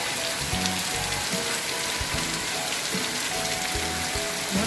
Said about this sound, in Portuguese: Chovendo bastante, olha.